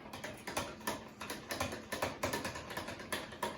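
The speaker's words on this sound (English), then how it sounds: "Crack 1 more egg. And then we're going to whisk them together." Eggs are whisked together in a bowl, giving a quick, regular series of close, sharp clicking taps that repeats throughout.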